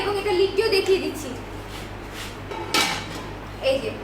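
An aluminium kadai with metal handles and its lid being handled, giving several light metallic clinks and taps scattered through, with a person talking between the sounds.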